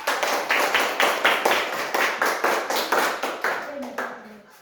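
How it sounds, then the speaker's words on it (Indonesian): Classroom of schoolchildren clapping in unison for a group, about a dozen sharp, evenly spaced rhythmic claps that fade as a voice begins at the end. "Tepuk tangan untuk kelompok 3."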